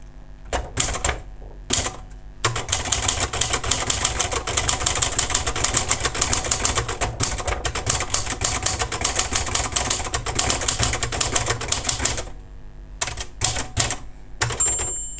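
An Imperial 200 typewriter inked with a red ribbon is typed on up close: a few separate keystrokes, then a long, dense, loud rattle of rapid key strikes, tapering back to scattered single strokes.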